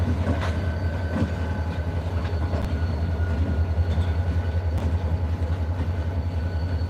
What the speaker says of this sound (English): Switcher locomotive